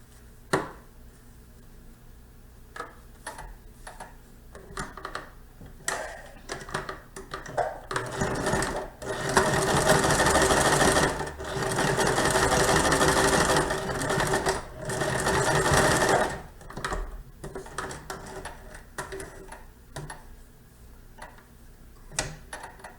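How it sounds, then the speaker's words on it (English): A sewing machine stitches another row along one side of a contoured fabric face mask, running in several loud sustained bursts broken by brief pauses and clicking handling noises, with no talking. "I'm going to do another row of stitching on this side as well."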